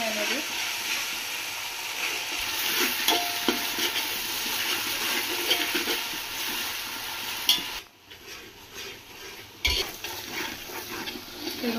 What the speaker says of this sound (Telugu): ఇది కూడా మసాలా కూడా మంచిగా వేగాలండి.